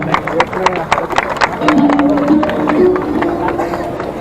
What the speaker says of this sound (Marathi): एकदा टाळ्या होत्या जोरदार.